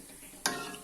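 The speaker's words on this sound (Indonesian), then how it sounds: "Ini kita goreng sampai berwarna coklat." Donuts frying in oil give a quiet background hiss, broken by a sudden brighter sizzle about halfway through that continues at a moderate level.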